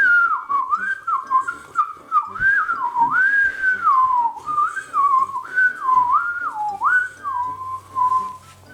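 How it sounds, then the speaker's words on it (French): A person whistles a wavering, off-key tune in continuous bending phrases that slide up and down in pitch, moderately loud and close, with no talking. "Elle siffle vraiment mal."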